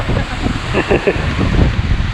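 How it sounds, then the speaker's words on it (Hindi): Strong wind at a clifftop at Kohoj Fort, Palghar, buffets the microphone with a low, rumbling roar, while a person speaks faintly underneath. "बहुत ज़्यादा हवा है."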